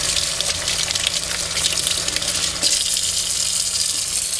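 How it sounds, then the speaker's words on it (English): Tap water runs steadily into a sink while hands are rinsed, a loud, continuous hissing gush with small splashing shifts, close and unbroken by speech. "Turn your water back on,"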